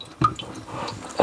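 Water dripping from a leaky cold water line under a bathroom faucet, a few distinct wet drips and splats in a quiet room.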